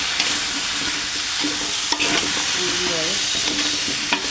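Squash pieces stirred in a pan, giving a steady sizzle with scraping and clinking from the spatula, close and continuous, with a brief spoken word near the start.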